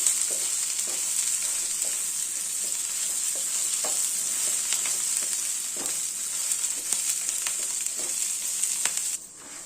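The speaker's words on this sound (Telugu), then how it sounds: "ఇలాగా క్రిస్పీగా అయ్యే వరకు వేయించాలి కరివేపాకు క్రిస్పీగా అయిపోవాలి" Curry leaves and garlic frying in oil in a pan, a steady bright sizzle throughout with occasional stirring scrapes and clicks, close and moderately loud, ending abruptly, no voices.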